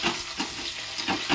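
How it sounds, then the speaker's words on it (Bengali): Potatoes being stirred in a pan while they cook under a lid: a quiet steady sizzle with a few soft scraping strokes over just over a second. "ঢাকাটা খুলে একবার নেড়ে দেবো"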